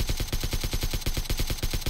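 Rapid automatic gunfire in PUBG, a steady stream of evenly spaced shots hammering without pause, loud and close throughout.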